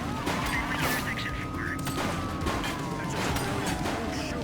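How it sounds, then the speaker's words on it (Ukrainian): Gunfire in the police game The Precinct, set in 1980s America: quick sharp shots burst over a continuous backdrop of engine drone and a siren-like tone. "Так, можна ще й стріляти, добре."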